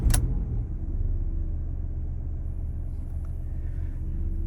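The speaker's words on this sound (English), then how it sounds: "we'll see once I start the car now." A Chrysler PT Cruiser engine, with a camshaft position sensor fault code just cleared, turns over and settles into a steady low idle rumble after a brief sharp burst at the start.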